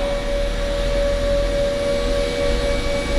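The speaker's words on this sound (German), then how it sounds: "Danach wird das Fahrzeug ganz hochgefahren" A workshop car lift hums steadily as it raises a vehicle for a wheel alignment check, a constant motor drone with a clear mid-pitched whine, close and unbroken, with no voices.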